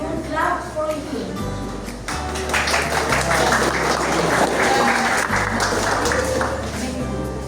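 Audience applause at a school literary discussion event on Edgar Allan Poe in San José, a steady wash of clapping through the clip with a voice speaking over it.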